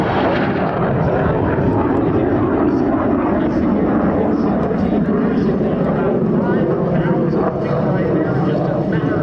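A MiG-17 jet fighter roars past with its afterburner lit at a Travis Air Force Base airshow, a loud and steady engine rumble throughout, with an announcer talking over it.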